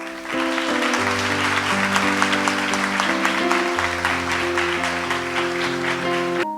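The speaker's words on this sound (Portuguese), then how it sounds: "eu queria dar uma salva de palmas aí pro pessoal da Itália" Church congregation applauds over sustained keyboard chords from the worship band, a steady wash of clapping blended with the music for several seconds.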